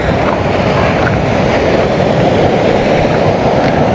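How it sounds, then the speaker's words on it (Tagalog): Waves crashing on a shore during a storm, a loud, continuous rushing roar of surf and churning water heard close up, with no clear pauses between breakers. "Dito wala kang ibang maririnig kundi hampas ng alon"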